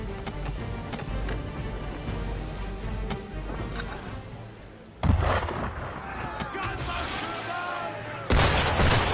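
Cannon fire aimed at a ship in Assassin's Creed 3, heard as two heavy booming blasts about three seconds apart over continuous rumbling sea and game ambience, with voices talking in the clip.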